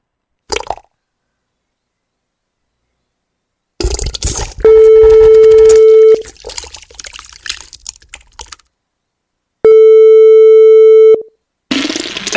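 A steady electronic telephone tone sounds twice while calling a phone scammer back, each long beep ringing out alone, with short bursts of handling noise and clicks around them.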